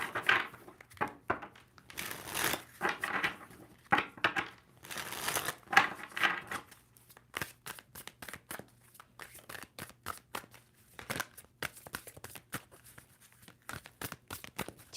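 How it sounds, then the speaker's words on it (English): A tarot deck is shuffled by hand in several bursts of riffling and crisp card flicks, some quicker and louder, others softer and scattered, close and quiet with no speech. "Two more shuffles for Capricorn."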